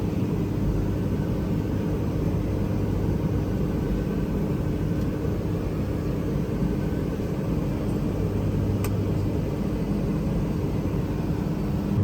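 Inside the cabin of a Beechcraft King Air 350 turboprop in flight, a constant, dense engine and airflow drone with a low propeller hum runs unbroken throughout.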